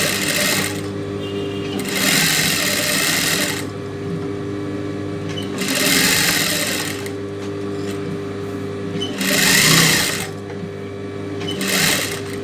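A sewing machine stitches around a nightie front panel in four separate bursts of fast, rattling needle action, each a second or two long, with short pauses between. It is close and loud, with no talk.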